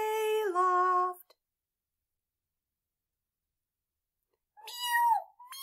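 A voice imitates kittens meowing: two high, gliding mews separated by a long stretch of silence.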